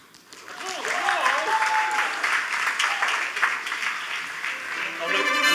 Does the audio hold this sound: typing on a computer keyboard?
no